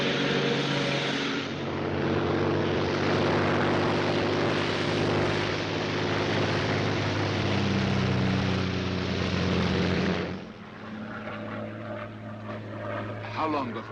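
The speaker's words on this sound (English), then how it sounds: "a Royal Air Force plane is waiting for us at a secret landing place" Steady, loud drone of a Royal Air Force propeller plane in flight in a 1942 film, engine hum holding for about ten seconds before dropping to a quieter cabin rumble as voices begin.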